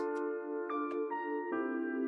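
A sustained, smooth sine-wave synth tone holds steady chords with soft shifts between them, dark and even, with no voices present.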